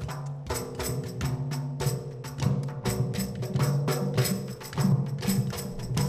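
Water drums made from halved calabash gourds floated in water, struck by a group of students in a steady, overlapping rhythm of hollow thuds, close and continuous with no talking.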